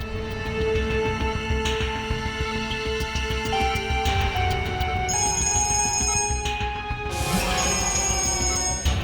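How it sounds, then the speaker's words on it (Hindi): Telephone ringing repeatedly with the DCP calling, tonal electronic ring pulses in bursts over a dense music-like background, moderately loud and steady, no talk. "सर, डीसीपी चित्रोले साहब का बार बार फोन आ रहा है।"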